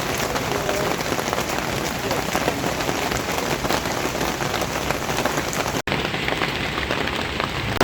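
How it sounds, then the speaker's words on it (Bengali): Heavy rain pours in the hills near the Gorumara forest in the Dooars, a loud, continuous roar of drops on surfaces with a momentary break near the end. "প্রচণ্ড বৃষ্টি হচ্ছে"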